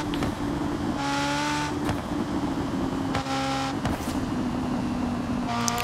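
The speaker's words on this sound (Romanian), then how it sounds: "Eu zic cum face evacuarea." A Ferrari F40 Competizione's exhaust revs in steady bursts, the engine note rising and falling several times with a continuous loud drone.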